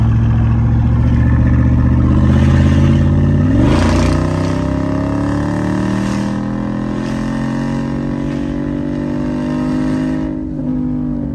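A car engine revs hard and roars loudly up close, its tone climbing steeply partway through and then holding a sustained high-pitched howl before dropping slightly near the end.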